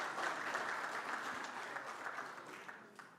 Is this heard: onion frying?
no